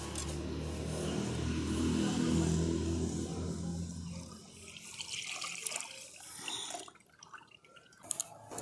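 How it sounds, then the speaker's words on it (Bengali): Milk pouring into a wok on a lit stove, a steady liquid gush that thins out into scattered drips and small splashes, close by with no talking. "এরপর দিয়ে দিচ্ছি আমি দুধ।"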